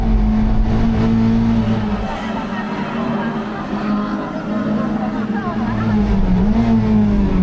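A Mazda MX-5 NB race car pushed to the limit of grip on track, its engine holding a steady, loud drone that rises and dips in pitch throughout, with a voice talking over it.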